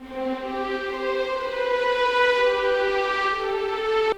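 A sustained, airy orchestral celestial strings sample holds a slowly shifting melody, with bright layered harmonics and a faint click at the end.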